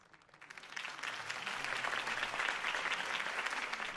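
A crowd applauds after Harvey Dent's campaign speech in Batman The Telltale Series, the clapping swelling within the first second into a dense, sustained roar of many hands at moderate volume.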